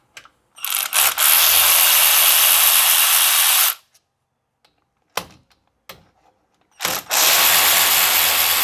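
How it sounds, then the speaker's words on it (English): A power tool with a 12mm socket spins off brake caliper bolts on a Colorado/Canyon pickup's front brakes in two long, loud, close whirring bursts, separated by short clicks and a pause. "12mm socket for these two bolts right here."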